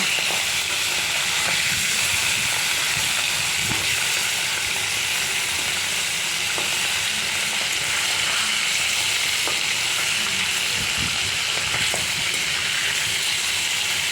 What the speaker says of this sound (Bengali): সেটা ভেজে নিচ্ছি মাছ ইলিশ মাছ কিন্তু বেশি ভাজবো না হালকা ভাজবো